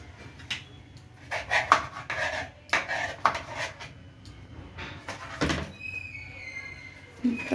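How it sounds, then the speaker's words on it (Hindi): Knife chopping tomatoes at home during weekend cooking of moong dal, a string of quick close taps and knocks on a board with kitchen clatter around them. "एकदम शिद्दत से टमाटर काटे जा रहे हैं।"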